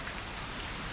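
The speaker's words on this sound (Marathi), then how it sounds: "हे बघा केवढा मोठा पाऊस आला" Heavy monsoon rain in the Konkan pours down in a dense, steady hiss of countless drops striking surfaces, loud and unbroken with no voices.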